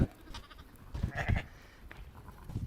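Fat-tailed sheep bleat in short bursts at close range, a few calls overlapping over a low rustling background, with no talking.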